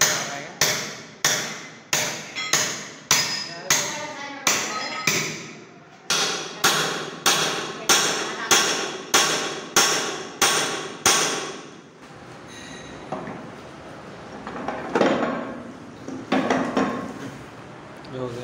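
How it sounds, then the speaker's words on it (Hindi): Repeated close, sharp hammer blows driving a pin out of a 6-speed ZF gearbox on an Ashok Leyland truck, about sixteen strikes in a steady rhythm, then scraping and clunking metal parts with no further blows. "पिन ठोक जाता है, देखो नीचे की तरफ पिन करने पर ये बाहर आएगा।"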